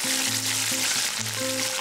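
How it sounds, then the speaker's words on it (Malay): Curry leaves frying in hot oil alongside turmeric fried chicken in a pot, a steady close, loud sizzle and crackle running throughout with no voices. "Goreng sekejap sampai daun kari rangup dan pastikan isi ayam tu masak sampai dalam."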